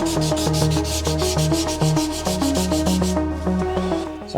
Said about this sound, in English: So 320 is a little obviously higher grit, and therefore it's finer grains in the sandpaper